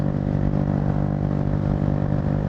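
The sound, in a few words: SSR Razkull motorcycle engine while riding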